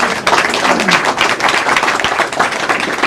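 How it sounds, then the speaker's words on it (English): A crowd at a local community gathering gives a round of applause: dense, continuous clapping, loud and close, filling the short stretch without pause. "can I get a round of applause for Stacy for driving all this stuff?"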